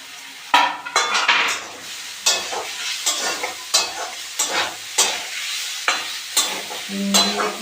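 A metal spoon scrapes and stirs grated carrot with sugar in a hot pan over low gas flame, with repeated close scraping strokes and clanks against the pan over a soft, continuous sizzle.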